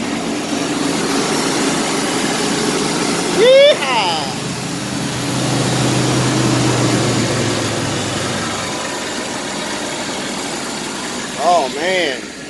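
A 1990 Chevrolet S10 Blazer 4x4, revived after ten years and lacking a proper exhaust system, idles with a steady low rumble. A voice cuts in briefly twice.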